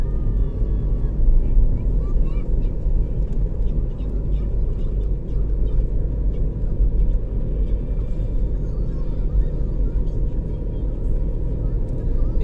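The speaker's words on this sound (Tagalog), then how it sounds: "Maluwag din ang traffic sa mga oras na ito sa magkabilang panig." Road traffic flows on Naya Road in Manila, a steady low rumble of passing cars close by that stays constant throughout while someone talks over it.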